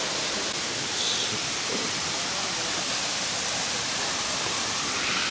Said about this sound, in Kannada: ವಾಟರ್ ಫಾಲ್ಸ್ ಮಾತ್ರ ತುಂಬ ಸಖತ್ತಾಗಿದೆ.